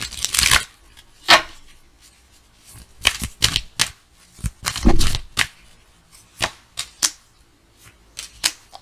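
Tarot cards are shuffled in quick bursts, crisp riffling flutters and sharp slaps arriving irregularly, close and fairly loud against an otherwise quiet room with no speech.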